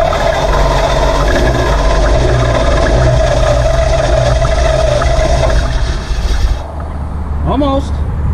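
A 1950 Ford flathead V8 with a manual transmission, long unused, cranking and trying to start: a steady, loud mechanical drone with rough pulsing that falters near the end as a brief higher tone rises.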